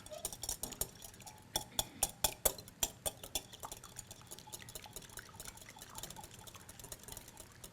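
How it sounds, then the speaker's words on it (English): Eggs beaten for a spinach filo pie, a fork or whisk clicking rapidly against a bowl in quick, uneven bursts that fade into softer, sparser taps. "Go ahead and beat the eggs."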